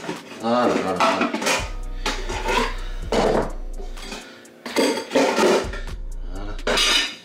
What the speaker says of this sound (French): Faut être intelligent dans l'empilement des casseroles et des tubes